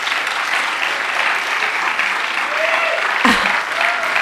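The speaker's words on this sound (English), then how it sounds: "A big round of applause for Akash." A Bharatanatyam arangetram audience in Birmingham, UK, gives loud, sustained applause for the musician Akash, dense clapping filling the room throughout, with a faint voice briefly rising above it near the end.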